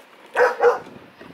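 Two quick, loud barks from dogs close by in a backyard, evenly spaced, followed by quiet outdoor background.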